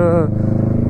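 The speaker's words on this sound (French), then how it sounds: "c'est une moto super facile à prendre en main" A motorcycle engine runs close by in a steady, pulsing idle, its low throb persisting after a brief voice-like tone at the very start.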